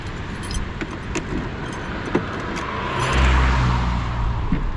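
Metal crowbars hung together on a hanger clink against one another like wind chimes, a scatter of light metallic taps over a low rumble of passing traffic and a car engine.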